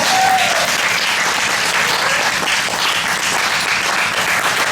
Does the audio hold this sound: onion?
no